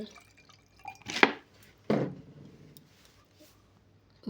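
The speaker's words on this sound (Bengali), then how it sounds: "ঘটির ভেতরে আমি এখন গঙ্গা জল" Ganges water poured into a small pot during a home Shiva puja, heard as two brief splashing pours about a second apart, then faint dripping in a quiet room.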